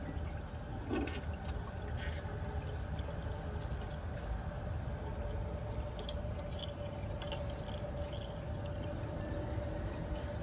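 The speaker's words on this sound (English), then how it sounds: "Allow some water back in the bowl." Steady hiss of water running as a Briggs Beautyware toilet tank and bowl refill through the siphon, continuous and even, with a few faint drips and clicks.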